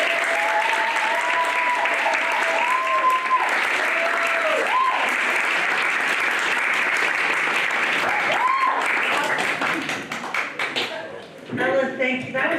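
An audience claps steadily and loudly for a keynote speaker at a disability studies conference, a dense sustained applause that fades near the end as a voice begins over it.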